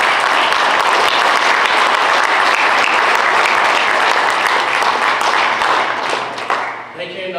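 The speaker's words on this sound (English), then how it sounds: "can we get a round of applause for the United Methodist?" A town hall meeting audience gives loud, sustained applause for a local church, dense clapping that holds strong before thinning out and fading near the end.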